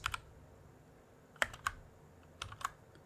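Bursts of typing on a computer keyboard, a few quick clusters of clicks spread across a few seconds over a quiet room background, close and fairly soft.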